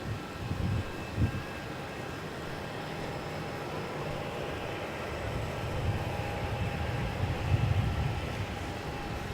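Boeing 737 MAX 8 at Melbourne Airport heard from the terminal, a steady distant jet engine rumble and whine that holds throughout with slight swells, without any voices.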